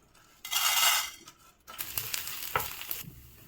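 Dal being dry-roasted and stirred in a pan for a restaurant-style mutton masala gravy: a short burst of sizzling, then clinking spoon-on-pan stirring strikes and scraping, close and fairly loud.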